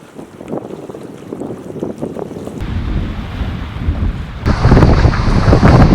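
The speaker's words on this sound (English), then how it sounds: "Got this insane wind." Strong, insane wind roars across a lake in the Thunder Bay wilderness of Canada before a storm, buffeting the microphone in loud, gusty bursts that grow heavier toward the end.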